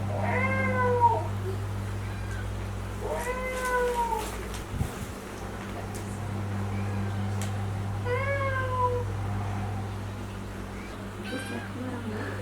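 A cat meows three times, spaced a few seconds apart, fairly faint against a steady background hum.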